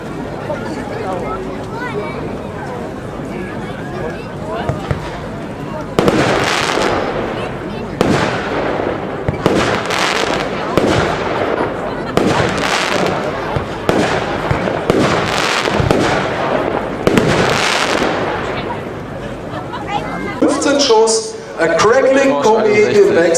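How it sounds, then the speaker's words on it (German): A 12-shot fireworks cake of silver strobes alternating with popping flowers, launching in a regular series of loud bursts with crackling tails, set outdoors, followed by a cluster of sharp pops, with people talking in the background. "Silberblinker im Wechsel mit Popping Flowers."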